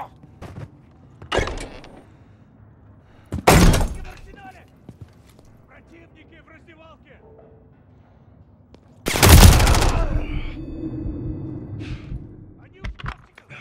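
Call of Duty gunfire cracks out in a few loud bursts, one short volley early and a longer, heavier spray later, mixed with game effects and players talking over the action.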